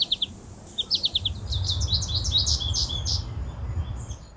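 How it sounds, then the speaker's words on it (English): American goldfinches give rapid chattering calls in flight, bright twittering bursts in quick clusters over a low background rumble, fairly close and clear with no voices. "You'll also hear them chatter as they fly"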